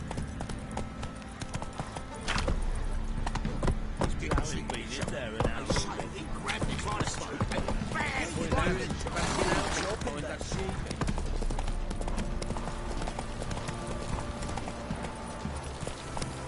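A horse trots in The Witcher 3 video game, its hooves clip-clopping in a steady, fairly loud rhythm throughout, with game voices talking over it.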